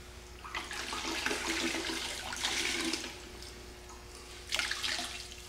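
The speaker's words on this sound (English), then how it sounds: "now we want to go over it with a clean bucket of water and a new clean rinse rag. We're going to completely rinse it" Water splashes and trickles as an aluminum aircraft wing is rinsed with a clean bucket of water and a rag, with a few louder sloshing bursts over steady running-water noise.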